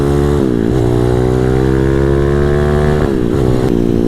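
A 212cc engine on a custom CT-70 trike revs up and settles back, a loud, close, buzzing motor with rising and falling pitch and no talk.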